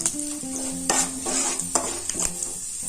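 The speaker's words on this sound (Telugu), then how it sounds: "తర్వాత జీలకర్ర, ఆవాలు, మినప్పప్పు, ఎండుమిర్చి వేసుకున్న తర్వాత కొద్దిగా ఫ్రై చేయాలి" Cumin, mustard seeds, urad dal and dried red chilies frying in hot oil in a pan, with steady sizzling broken by a few sharp spatula scrapes and stirs, close and moderately loud.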